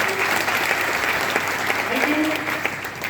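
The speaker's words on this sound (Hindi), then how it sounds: "एक बार जोरदार इन दोनों के लिए ताली बजाइए" Loud, sustained audience applause at an event welcoming a company MD and CEO, steady dense clapping filling the whole stretch with a voice faintly underneath.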